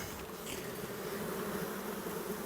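Honey bees buzz steadily at the hive in spring, a dense, continuous drone close by with no voices.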